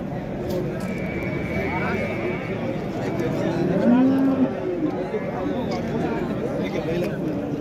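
Cows at a livestock market in Kokand, with a low moo rising briefly amid busy overlapping chatter and crowd noise from traders talking nearby.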